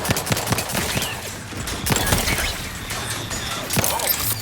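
Rapid bursts of gunfire in The Outer Worlds 2, dense clattering shots and impacts piling up throughout, with a player's voice talking over the combat.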